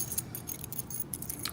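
An Abus 90/50 shackle padlock's keys jangling, a quick run of bright metallic clinks and rattles held close and heard on their own.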